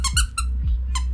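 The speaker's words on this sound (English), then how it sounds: "they even squeak when you squeeze them" A small plush Among Us crewmate toy with a squeaker is squeezed repeatedly, giving four short, sharp, high squeaks over a low steady background hum.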